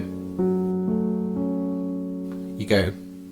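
A beginner's piano tune: three sustained chords struck about half a second apart ring and slowly fade, then a short louder burst of sound cuts in near the end.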